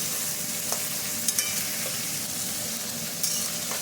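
Mixed vegetables — potato, capsicum, beans, carrot, long beans, squash and tomato — sizzle steadily in a pan while being stirred, with a few sharp scrapes of the spoon standing out over the constant close frying hiss.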